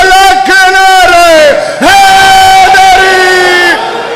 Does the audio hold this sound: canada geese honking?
no